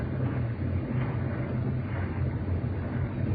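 A ship's engines maneuvering as the vessel gets underway give a steady low rumbling drone, loud and continuous without pauses, with no voices over it.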